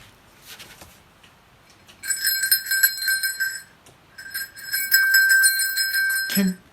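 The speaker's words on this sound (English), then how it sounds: "Can you hear the sound of the bell?" A small bell rings in two sustained bursts of bright, shimmering tinkling, fairly close and clear, with a faint voice before it.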